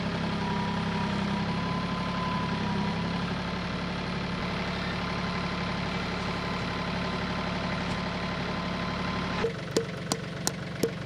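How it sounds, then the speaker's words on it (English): A tractor engine idles steadily and close by at a solar array build site, with a constant low rumble, then a few sharp clicks near the end. "So I'm gonna grab the tractor."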